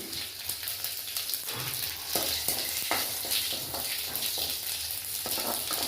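Torn dried red chilies frying in hot oil with mustard seeds for Madurai thanni chutney, a continuous close sizzle broken by rhythmic stirring scrapes and occasional crackles, with no voices.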